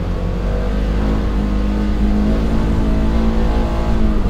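Polaris Xpedition UTV engine revving and accelerating off-road, a steady, loud, close drone with throttle rising through the stretch, no talk over it.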